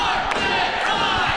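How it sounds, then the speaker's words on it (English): At an independent wrestling showcase, an arena crowd chants in unison, a loud, sustained roar of many voices with rhythmic swells close to the microphone. "Already they chant for the magic carpet ride."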